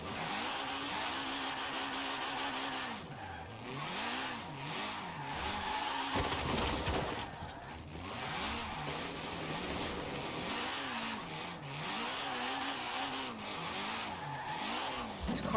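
A car slides around without traction in Forza Horizon 4, its engine revving in steady rising and falling sweeps, loud and continuous throughout.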